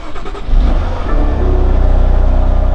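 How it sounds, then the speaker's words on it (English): A 2018 BMW M4 engine fires up and runs close by, a quick start followed by a firm, steady running drone with a slight rev. "the vehicle starts right up"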